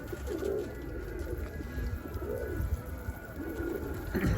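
A chukar partridge calls faintly in the background, a few separate repeated calls spaced over a quiet outdoor ambience.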